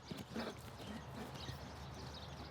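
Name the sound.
horse trotting, hooves clip-clopping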